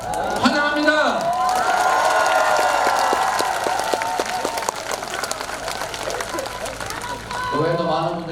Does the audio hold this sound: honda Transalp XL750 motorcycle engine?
no